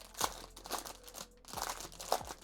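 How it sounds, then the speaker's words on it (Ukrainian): Protective plastic film peeled off a compact white magnetic keyboard, giving crinkly, crackling rustles in several uneven bursts, close and fairly quiet with no voices. "Давайте знімемо одразу плівку."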